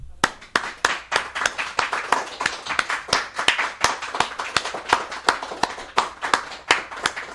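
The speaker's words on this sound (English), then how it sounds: "A great big applause for Argentina" An audience claps throughout, sharp distinct handclaps in a fairly regular rhythm that sounds like a modest group rather than a roaring crowd, with no speech.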